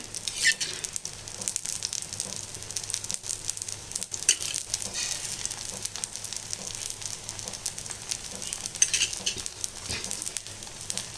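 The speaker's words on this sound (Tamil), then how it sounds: "இப்போ தோசை ஊற்றியாச்சு இது வந்து நம்ம சுற்றி எண்ணெய் விட்டுக்கலாம்" Wheat flour dosa batter frying in oil on a pan, a steady soft sizzle with faint crackles running throughout, close and fairly quiet.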